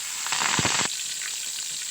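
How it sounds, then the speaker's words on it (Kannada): Curry leaves dropped into hot oil for tempering crackle and sizzle loudly up close, with a sharp burst of pops that settles into a steady frying hiss. "ಕರಿಬೇವು ಹಾಕ್ಕೊಂಡಲ್ಲ ಈಗ"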